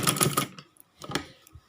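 A sewing machine runs in two short bursts stitching a cotton A-line kurti, a rapid needle clatter heard up close with a pause between runs.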